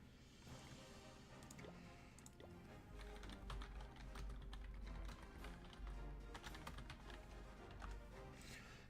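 Rapid clicking keystrokes on a computer keyboard, a busy irregular patter of key taps close by, layered over a low background rumble from game audio.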